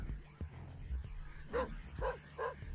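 Dog barking in The Binding of Isaac, heard as three short, evenly spaced barks near the end, fairly close, over a low game hum with faint earlier clicks.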